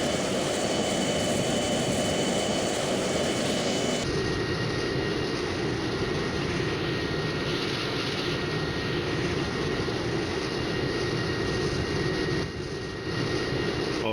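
A jet aircraft engine in Strike Fighters 2 roars at a constant, dense level without a break, its tone shifting slightly partway through.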